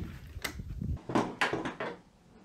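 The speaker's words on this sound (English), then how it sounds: "Well, hold up, there's another door. Let's get that open." A car door or hatch is opened on an old project car, giving a few close clunks and scraping latch sounds in quick succession, fairly quiet.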